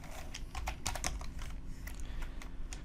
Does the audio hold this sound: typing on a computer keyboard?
yes